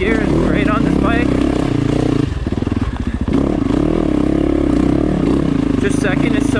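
A Yamaha YZ450FX dirt bike rides in first gear on a trail, its engine a loud, close, steady drone that dips briefly and returns, with a rider's voice talking over it.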